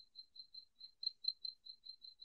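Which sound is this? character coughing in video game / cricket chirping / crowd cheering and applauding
cricket chirping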